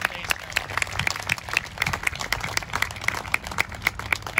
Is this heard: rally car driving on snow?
no